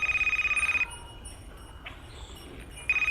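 A telephone rings with a rapid trilling bell that sounds in two bursts, one at the start and a short one at the end, separated by a near-silent gap.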